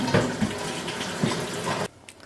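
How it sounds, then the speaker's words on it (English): Hot tap water runs into a container to rinse it out, a steady rushing splash with small clunks, fairly close, cutting off abruptly near the end. "I'm gonna just clean this out with hot water."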